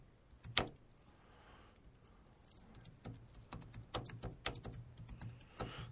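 Irregular bursts of clicking keystrokes on a computer keyboard, a single sharp tap early, then quieter stretches before faster clustered typing near the mic, with no voice.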